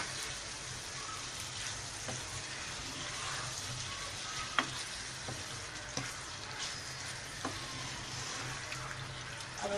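Minced keema frying with green chillies and tomatoes, a steady crackling sizzle with occasional sharp clicks of a spoon against the pan.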